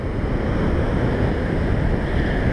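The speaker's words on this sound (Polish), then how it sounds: "Come on, Ocean, come to me." Ocean surf washes onto a beach in Mexico as a steady, loud roar of waves and rushing water, heavy with wind rumble, continuous throughout with no voices.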